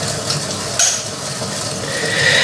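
Matcha whisked by hand, a steady close swishing and scraping that runs throughout, with one brief sharper clink near the start.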